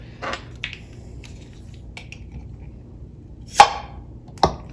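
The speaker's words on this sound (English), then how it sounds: "I'm now going to open up my diced tomatoes." Home-canned jar of diced tomatoes being opened, with two sharp pops or snaps of the lid coming loose close by, preceded by a few faint clicks and light handling noises in a quiet room.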